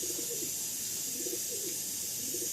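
Pigeons at an Andhra Lalsira and Lambadi Fulsira loft give soft, low cooing phrases that repeat in slow pulses, fairly faint over a steady background hiss.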